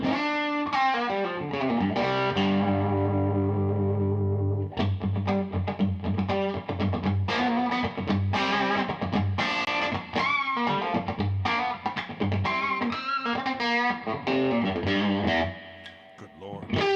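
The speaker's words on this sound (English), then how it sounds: "Yeah, there's reverb on there." Electric guitar played through a reverb effect with distortion, a sustained chord ringing out before a busy run of loud, continuous picked notes and chords.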